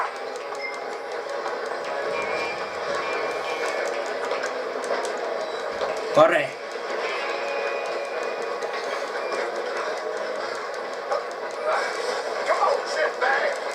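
A steady rolling rumble of a steam train running along the track in Red Dead Redemption II, with brief clatters, under intermittent shouting voices.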